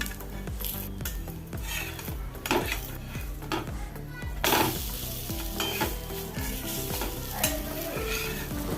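A wheat flour evening snack fries in a pan on a gas stove, giving a steady close sizzle with metallic scraping and clinking of utensils against the pan throughout.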